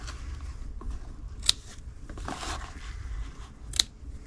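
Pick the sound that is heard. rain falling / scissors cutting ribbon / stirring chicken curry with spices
scissors cutting ribbon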